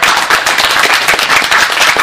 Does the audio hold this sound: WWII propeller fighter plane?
no